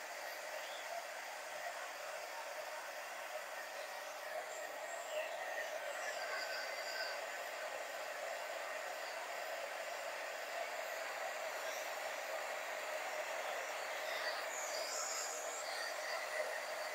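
A hair dryer blows a steady, even whoosh across a wooden broom to dry its paint, holding constant for the whole stretch with no voices over it.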